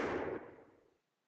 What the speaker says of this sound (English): the sound of gunfire suddenly echoes from afar